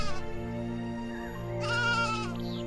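A single sheep bleats close by with a drawn-out, wavering cry, heard alone against a quiet steady background.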